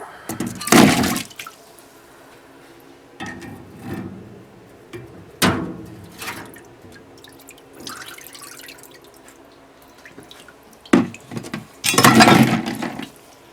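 Soaked Honda CR-V parts are lowered into a container of water during an engine rebuild, giving sloshing splashes and drips in several bursts, loudest near the start and again at the end, with quieter dripping between.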